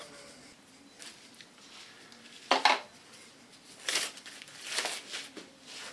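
Plastic foil being crinkled and pressed over freshly dyed hair, making a few soft rustling, crackling bursts spaced across a quiet background, close and fairly faint.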